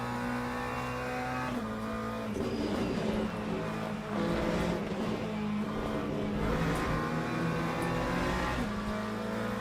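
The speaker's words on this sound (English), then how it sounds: "Hypercar just comes flying through." A hypercar races past in Le Mans Ultimate during a multiclass sim race at Imola, its engine note rising and shifting with tire squeal, loud and steady with no talk.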